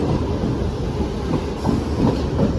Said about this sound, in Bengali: প্রায় 10 মিনিট দেরি করার পর আমাদের ট্রেন 1 নম্বর প্ল্যাটফর্মে ঢুকে গেল।